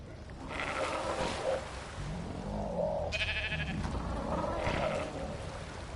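Sheep bleating in the Ark video game, with several wavering bleats at a steady moderate level, close by, and no talking.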